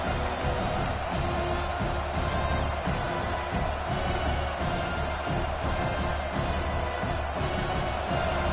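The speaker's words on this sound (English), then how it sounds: "Listen to the crowd energy here in the early going." Steady roar of a large college football stadium crowd at a Georgia Bulldogs vs. Tigers game, loud and continuous, with broad swelling noise and no distinct voices standing out.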